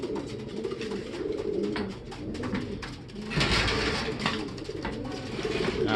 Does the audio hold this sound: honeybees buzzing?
no